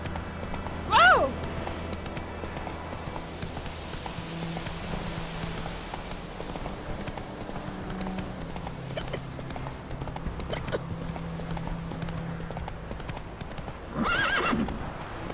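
Roach, a horse in The Witcher 3, gives a sharp neigh near the start and another toward the end, with steady hoof clip-clops running underneath throughout.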